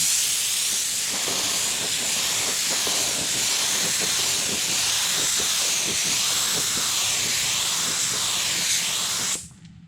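A paint spray gun laying clear coat onto a car in a collision repair shop, giving a loud, steady close hiss that cuts off abruptly at the end.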